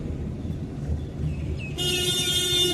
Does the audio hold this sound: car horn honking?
yes